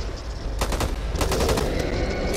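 Rapid automatic gunfire in the zombie shooter game Back 4 Blood, loud bursts of close shots that start about half a second in and keep rattling with little pause until the end.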